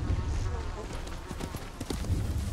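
Horse hooves clip-clopping in the video game Ghost of Tsushima, a steady trot of hoofbeats mixed with in-game voices speaking, fairly close and moderately loud.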